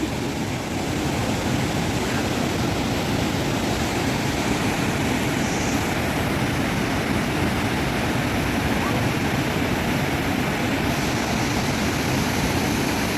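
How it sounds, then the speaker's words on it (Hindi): Gallu waterfall on a trek, heard as a constant broadband rush of falling water, steady and fairly close, with no voices over it. "वाटरफॉल वो सामने है।"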